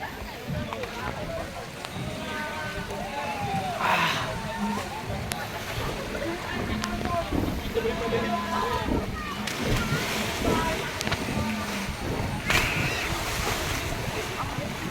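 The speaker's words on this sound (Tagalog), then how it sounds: "Pag napuno siya, bubuhos siya mga gawiks." A giant water bucket at a resort water park fills and tips over. A broad roar of gushing, splashing water runs throughout, with wind buffeting the microphone and people talking over it.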